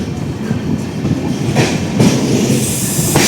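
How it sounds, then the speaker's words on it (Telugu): The Amrit Bharat Express rolls into platform 1 at Karunagappally station, loud and close, with clattering wheels, rumbling cars and a few sharp squeals over a continuous roar. "ప్లాట్ఫామ్ నెంబర్ 1 పైకి అయితే మన ట్రైన్ వచ్చి ఆగుతుంది."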